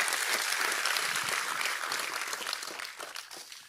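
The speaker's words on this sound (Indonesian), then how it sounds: "Boleh tepuk tangannya di-extend buat tim praise and worship kita." Church congregation applauding the praise and worship team, dense loud clapping from a large crowd that holds steady and then gradually tapers off.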